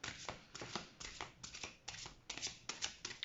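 Oracle cards shuffled by hand up close, with a steady run of crisp riffling bursts repeating in a quick rhythm and no voices.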